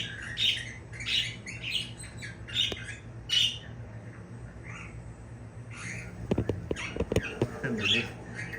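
Angel, a pet bird indoors during Christmas tree decorating, lets out repeated sharp squawks close by, mixed with light fluttering and scuffling taps toward the end.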